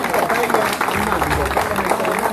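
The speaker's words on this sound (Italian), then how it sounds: "Facciamo un bel applauso" An audience at a live show applauding for Angelo, a dense patter of clapping mixed with crowd murmur and voices throughout.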